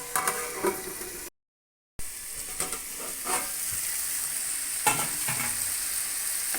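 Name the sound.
stirring pumpkin masala stir-fry in a pan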